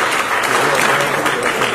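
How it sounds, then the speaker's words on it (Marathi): Loud, dense applause from the crowd at a Marathi film music and trailer launch, a continuous roar of clapping filling the whole short moment. "इतना जोरदार टाळ्या व्हायला पाहिजे"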